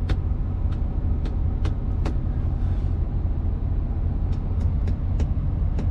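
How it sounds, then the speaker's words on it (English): A bus stops in narrow Hackney street traffic to drop off a passenger, its engine idling low and steady nearby while sharp, brief clicks and ticks recur throughout. "I think the bus is dropping somebody."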